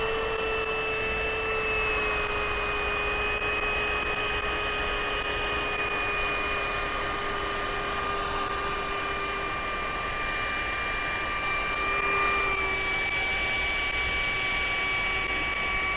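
A small electric pump steadily inflates a Dikasun air mattress made for a Tesla Model Y, a continuous loud whir with a constant pitch that shifts slightly near the end.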